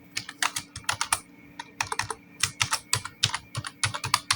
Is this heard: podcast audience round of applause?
no